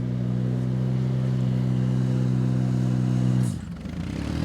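A Ventrac 45RC compact tractor's engine runs in a steady, humming drone close by, then abruptly drops away after about three and a half seconds, leaving a lower, rougher rumble.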